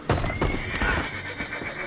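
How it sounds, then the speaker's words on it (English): A horse neighs in Red Dead Redemption 2, a loud close whinny with some hoof clatter around it, brief and alone without speech. "the horse, bless his soul if horses have souls, had had enough and joined the fight on Arthur's side"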